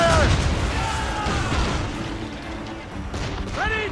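Ship cannons booming in Assassin's Creed Rogue during a naval battle among icebergs, heavy low rumbling blasts rolling one into the next, loud and close, with whistling projectile sweeps at the start and end.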